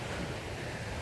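Mae Aeb waterfall in Omkoi, Chiang Mai, gives off a continuous broadband rush of falling water, steady and enveloping, with no talking over it.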